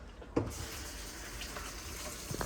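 Tap water runs into a cup in a home kitchen, a soft steady splashing stream that starts with a brief clunk and continues evenly at close range.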